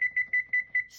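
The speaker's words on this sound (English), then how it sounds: "I'm going to set my timer" A kitchen timer being set for cooking rice pudding, five short bright electronic beeps in a quick even rhythm, close and clear with no voices.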